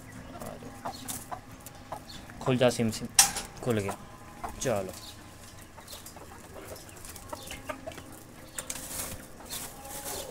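Chickens clucking and squawking nearby, with a burst of flapping and metallic clatter midway, while someone speaks briefly over it.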